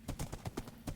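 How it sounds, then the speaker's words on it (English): A horse clip-clopping along at a quick pace while being ridden in the video game Minecraft, several close, distinct hoofbeats in steady rhythm, with no talking. "I'm riding the horse just so I can get there faster."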